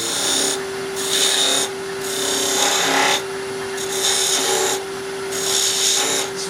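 A skew chisel cuts a deep V-groove into dry, hard pear wood spinning on a lathe. Several close, raspy cutting bursts rise and fall over a steady motor hum, with no talking.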